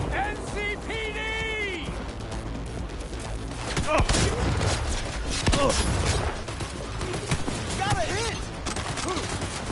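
Gunfire erupts in the video game Cyberpunk 2077, a loud fusillade of shots and thuds with booming impacts, mixed with game music and shouted voices.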